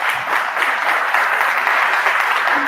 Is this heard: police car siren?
no